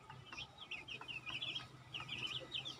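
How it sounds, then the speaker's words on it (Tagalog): Several chickens cluck and chirp softly in short, scattered bursts, a busy flock at moderate distance with no talking. "Pero masisigla yung mga manok nyo."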